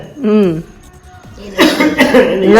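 A few harsh coughs burst out close by, loud and clustered, following a short stretch of talking and laughter.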